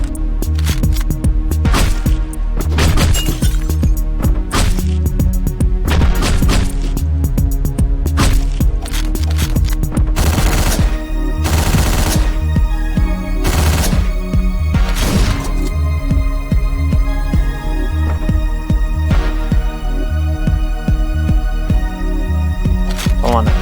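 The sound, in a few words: gunfire and shotgun blasts in the video game Hotline Miami 2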